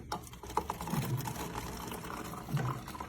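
Water pours into the tank of a Keurig K-Duo coffee maker, a soft trickling, gurgling flow with a couple of slightly louder splashes, fairly quiet and close.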